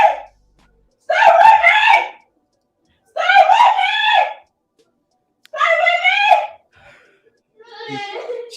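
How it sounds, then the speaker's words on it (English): A woman screams repeatedly in distress on an enhanced recording, four long harsh wails separated by pauses, loud and close, the last one fainter and broken. "She's basically screaming"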